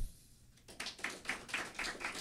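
Small audience at a live radio show applauding a musician, scattered moderately quiet claps beginning after a brief hush and continuing in an uneven patter.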